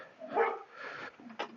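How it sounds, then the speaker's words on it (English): A neighbor's unhappy dog gives a few short, fairly distant barks and yips from next door, heard alone in an otherwise quiet yard. "Somebody's dog is not happy."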